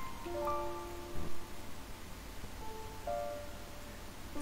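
Rain falls in the video game Paradise Lost as a quiet, steady hiss that continues without a break, with faint sustained tones drifting above it.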